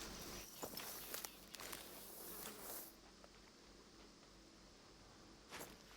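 A deer's footsteps in the hunting game Hunter Call of the Wild, soft scattered crunches on brush, faint and close, over a buzzing insect-like outdoor ambience.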